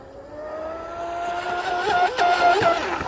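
Deltaforce 35 RC boat runs at high speed, a high, whining motor note that rises in pitch as it accelerates, moderately loud and steady, with no voices.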